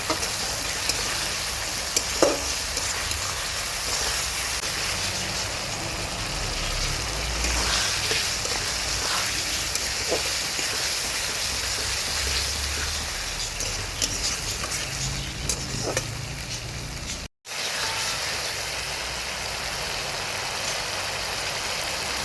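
Garlic and ginger paste with spices fries in a pan, giving a steady, dense sizzle as it is stirred, over a faint low rumble in the background.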